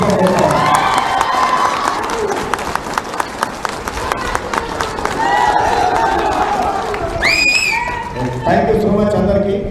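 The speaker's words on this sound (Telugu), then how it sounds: "మీరంతా గట్టిగా చప్పట్లతో ఆమోదం తెలపాల్సిందిగా." A large crowd at a political rally claps loudly and cheers to approve a state committee's decision, with dense sustained applause and shouting throughout.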